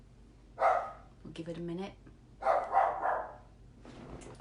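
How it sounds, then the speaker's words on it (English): Several dogs barking in bursts at a home after a car drives past, loud and close, with a person talking between and over the barks. "Someone just drove by, so the dogs are barking their heads off."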